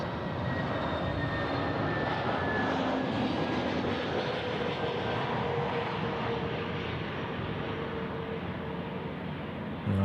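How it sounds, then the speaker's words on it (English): An Airbus A321neo airliner coming in to land at Sydney Airport, its engines a loud, steady roar that holds through the whole stretch with no voices over it. "Coming in, 321 Neo."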